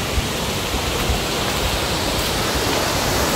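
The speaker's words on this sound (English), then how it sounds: "ඉතින් යාරනේ මේක තමයි Aberdeen දිය ඇල්ල" Aberdeen waterfall in Sri Lanka roars as a steady, dense wash of falling water, loud and continuous with no other sounds.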